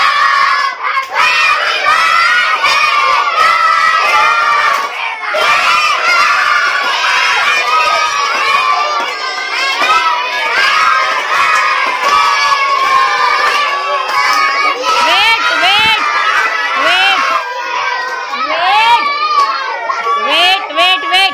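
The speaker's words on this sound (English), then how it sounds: "You are singing or shouting? No one can understand what you are singing." A crowd of children shouting and singing loudly together at a birthday celebration, a dense and continuous din of high voices with cheering close by, lasting throughout.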